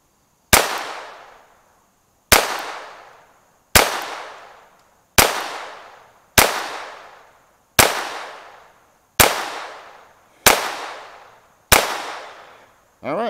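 A third-generation Glock 26 pistol fitted with an Advantage Arms conversion kit fires CCI Mini-Mag rounds: nine sharp, close cracks spaced about a second and a half apart, each ringing off in a short decaying tail, with no talking.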